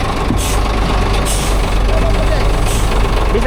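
A heavy dump truck rumbles past on a bridge, its loud low engine drone steady throughout with brief hissing bursts like air brakes, while people talk over it nearby.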